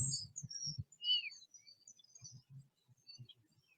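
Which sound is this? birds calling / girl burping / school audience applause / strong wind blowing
birds calling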